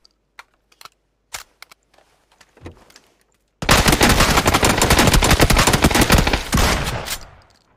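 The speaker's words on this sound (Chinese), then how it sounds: "听着枪声没？" Rapid automatic M4 rifle fire in a video game, with a few scattered clicks and short shots first, then a loud, sustained burst of gunfire that tapers off at the end.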